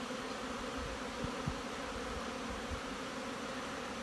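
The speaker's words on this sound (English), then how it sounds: "It's the sound of healthy bees." Healthy honey bees hum at a hive entrance on a fall day in Canada, a dense continuous drone of many wings, close and steady, with a few individual bees passing nearby.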